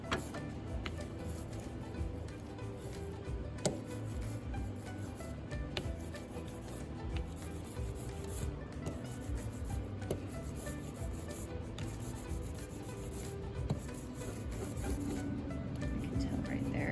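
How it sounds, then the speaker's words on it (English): Ink is spread across a collagraph printmaking plate, giving a continuous close, soft sticky rubbing and rasping with occasional light ticks, steady and fairly quiet throughout with no talking. "I might need to pick up more ink, spread it out and get that sticky sound again."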